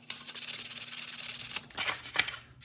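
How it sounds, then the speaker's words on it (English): Short back-and-forth strokes of sandpaper scuff a knife surface ahead of painting, a soft rhythmic rasp close by with a brief pause before a few final passes. "I'm just gonna kind of hit some of the scratches and scuff up generally the entire surface so that our paint has something to stick to"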